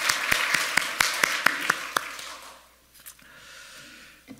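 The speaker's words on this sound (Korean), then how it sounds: "우리 하나님 앞에 큰 영광의 박수 한번 드리겠습니다" A church congregation claps in steady, even beats for about two seconds at a worship service, then the applause fades into a quiet room with scattered faint sounds.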